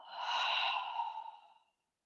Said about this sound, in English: And a full breath out.